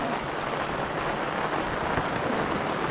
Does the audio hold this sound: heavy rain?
yes